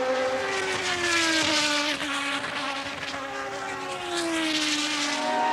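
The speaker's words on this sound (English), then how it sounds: "And listen to Andretti's engine, he's in trouble." A high-pitched Formula One engine in trouble at the British Grand Prix at Silverstone whines steadily with wavering pitch, its note rising and dipping unevenly as it strains, fairly loud and continuous.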